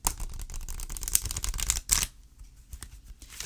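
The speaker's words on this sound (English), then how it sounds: "They shuffle very easily and well." A Kuan Yin oracle card deck is shuffled by hand in quiet surroundings, crisp rapid riffling and card flicks for about two seconds, then a hush with faint handling.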